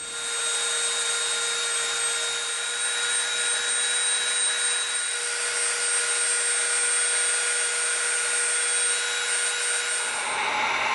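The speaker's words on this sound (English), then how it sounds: "now we're going to come in and we're going to soften that top edge with our Dremel" A Dremel rotary tool steadily softens the top edge of EVA foam, giving a continuous high-pitched whine with a steady tone throughout, close and unbroken until it tapers off at the very end.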